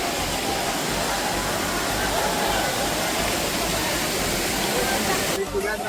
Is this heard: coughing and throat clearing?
no